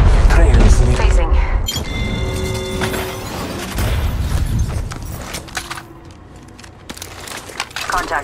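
Gunfire in the mobile battle royale Apex Legends Mobile: loud bursts and booms with mechanical clatter and jangling reloads, mixed with an in-game announcer voice.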